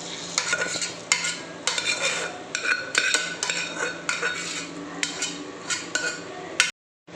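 Mashed vegetables being stirred into pav bhaji in a pan: repeated scraping and clinking strokes of a spoon against metal, close and fairly loud, in a steady rhythm with no talking, ending abruptly.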